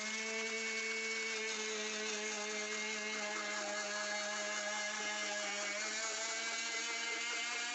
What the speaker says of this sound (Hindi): ये नमक, ये चीनी और ये सिरका, इसको मैं 30 सेकंड के लिए सबसे पहले चलाऊंगी मशीन को।